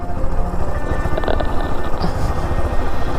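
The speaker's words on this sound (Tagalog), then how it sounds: "Kapag nire-rev po nga siya, parang mamamatay talaga yung makina." A motorcycle running on gin used as improvised fuel revs unevenly, its engine sputtering and chugging as if close to stalling, loud and close with a rough, irregular pulse.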